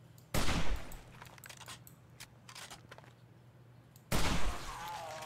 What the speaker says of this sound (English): Just firing from the hip here.